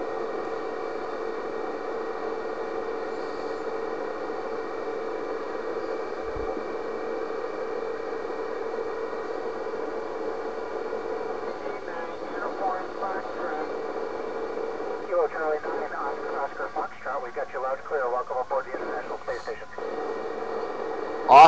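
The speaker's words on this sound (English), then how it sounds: "Did you hear that? It's the International Space Station." Faint, crackly radio transmission from the International Space Station received in the Chicago area, a steady hiss of static with brief voice-like bursts toward the end.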